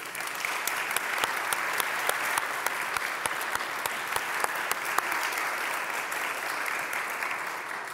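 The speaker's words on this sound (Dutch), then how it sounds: "Mag ik graag een heel ouderwets fysiek applaus voor dat team." A hall full of people applauding a communications team at a report presentation on AI, with many distinct hand claps popping through a continuous bed of clapping that holds steady for several seconds.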